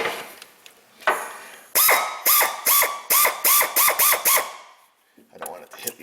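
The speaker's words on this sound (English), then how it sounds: "I am using a 10 millimeter swivel on a 1/4 inch drive though. My long ratchet." A long 1/4 inch drive ratchet with a 10 mm swivel socket loosens a bolt on a Dodge Caravan or Chrysler Town & Country during EGR work, giving a close run of quick clicking strokes in a steady rhythm, with brief handling noise around them.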